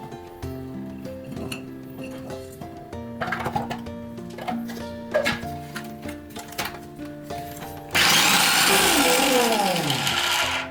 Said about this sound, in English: I'm gonna use food processor over here.